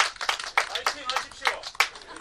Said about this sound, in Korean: 우리 김천지 후보님을 위해서 박수 한번 부탁드리겠습니다